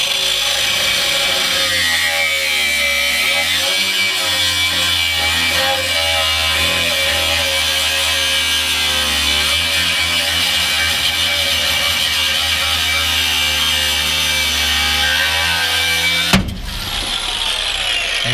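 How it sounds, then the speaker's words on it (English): Power tool cutting through the U-bolts on a Ford F250 Super Duty rear leaf spring: a steady, loud, close grinding whine that runs almost continuously, then stops abruptly near the end. "I'll cut the U-bolts."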